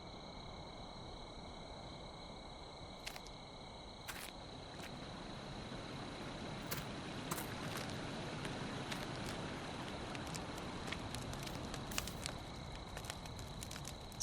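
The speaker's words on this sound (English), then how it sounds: "quite the campfire." A continuous low crackle of a campfire in the video game The Ritual fills the scene, with scattered sharp snaps and pops at irregular intervals, no voices.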